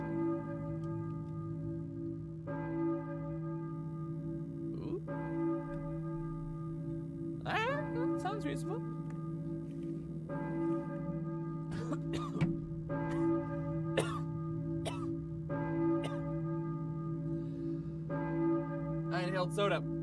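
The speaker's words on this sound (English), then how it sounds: "I hear it's a bell." Church bell tolling in the video game Silent Hill, repeated strikes with long ringing overtones over a steady low hum, several bright clanging hits clustered in the middle, moderately loud and alone without talk.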